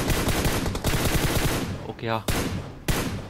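Gunfire in the PUBG Mobile battle royale game sounds as dense rapid bursts with a brief pause and a final shot, while a player speaks briefly over it.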